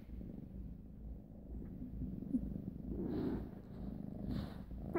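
A cat purrs softly up close, a low continuous rumbling that swells slightly in the middle, with a couple of faint snuffles.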